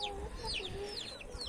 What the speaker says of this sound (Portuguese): O Vitor Hugo já tinha comprado uns frangos antes aqui também, né?